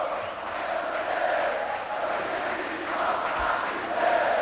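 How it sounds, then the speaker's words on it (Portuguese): Arena crowd at a mixed martial arts event, Tony de Souza against Luiz Azeredo, roaring and cheering in a steady, loud wash that swells near the end, with no single voice standing out. "E a torcida mais uma vez comemora muito aí"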